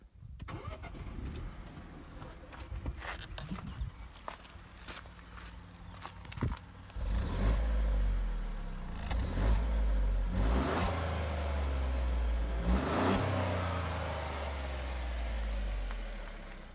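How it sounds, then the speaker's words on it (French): A Peugeot 208's three-cylinder engine cranks and starts, then settles into a steady, slightly uneven idle with occasional revs, close by, no talking. "je vais vous faire écouter le bruit du moteur. Donc je vais l'allumer, c'est un 3 cylindres"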